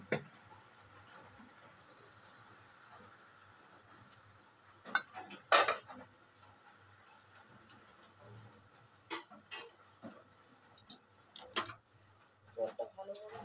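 A pot of hot water is handled on the stove and lifted off, with sparse metallic clanks and knocks scattered over a low background hum, close and moderately loud, and a voice talking faintly in between.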